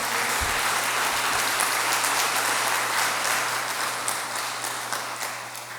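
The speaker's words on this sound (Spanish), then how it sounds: "Le voy a pedir que le demos un fuerte aplauso al Padre Jaime por..." An audience at a vicarial assembly gives a loud, sustained round of applause, dense clapping continuing for several seconds before slowly tapering off, with no speech over it.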